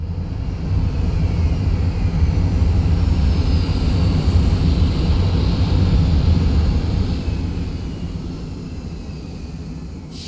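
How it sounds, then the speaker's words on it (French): A rocket landing in the colony-building video game Planetbase, a loud, sustained low engine roar that holds steady, then fades toward the end. "Je vous laisse l'atterrissage de la fusée"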